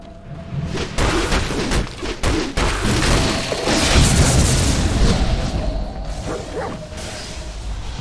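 In a Dota 2 match, heavy booms and whooshing spell impacts pound away as a middle tower comes under attack, with loud overlapping blasts and a steady battle rumble throughout.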